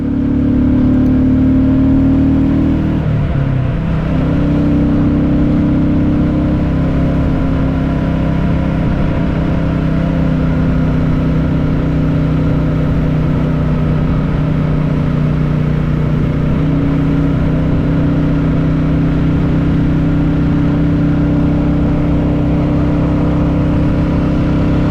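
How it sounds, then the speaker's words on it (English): A Royal Enfield Classic 350 motorcycle engine on the move during a morning commute, a loud, steady low thumping drone with a brief dip in pitch early on, mixed with continuous wind rush throughout. "back on the Enfield, running fantastic as always."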